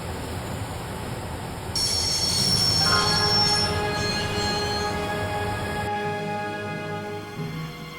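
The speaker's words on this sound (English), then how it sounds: "I'd always wanted to stop a train, and now was my chance." A train grinding to a halt in the video game Broken Sword: The Shadow of the Templars – Reforged, wheels squealing loudly with shrill metallic tones that shift in pitch, then the rumble drops away near the end.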